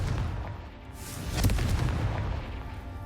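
A Confringo fire spell explodes in the game Hogwarts Legacy, a dull, rumbling boom that swells about a second in and lingers as a broad, noisy roar to the end, with no speech.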